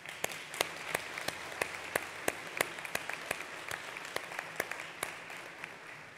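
A university commencement audience gives a quiet, distant round of applause, a steady wash of many hands with a few sharper individual claps standing out at a loose, irregular pace.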